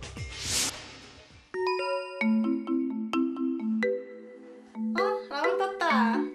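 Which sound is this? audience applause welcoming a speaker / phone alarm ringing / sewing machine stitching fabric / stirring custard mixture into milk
phone alarm ringing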